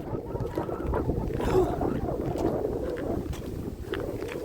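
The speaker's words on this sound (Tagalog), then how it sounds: "Eh medyo may hangin pa." Wind gusting outdoors on a freezing minus 21 degree day in a downtown area after snowfall, a steady rough rumble buffeting the microphone throughout, with no speech.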